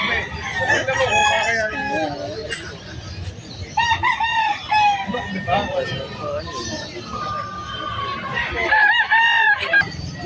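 Several chickens cluck and a rooster crows repeatedly nearby at a pet market in Malabon, with people talking over the birds.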